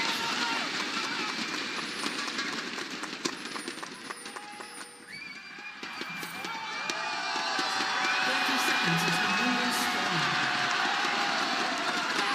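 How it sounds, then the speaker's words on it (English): Esports arena crowd at a League of Legends match between T1 and G2 in Chengdu, cheering and roaring steadily throughout, swelling louder in the second half. "As we hear the support from the fans in the crowd"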